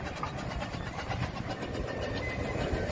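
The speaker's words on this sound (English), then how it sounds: "Now the road locomotive." A restored steam road locomotive at the Lincoln steam fair runs with a steady, loud mechanical chuffing and rumbling, continuous and close, with busy fairground noise mixed in.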